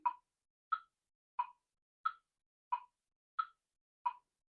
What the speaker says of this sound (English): Let's listen to it on the metronome.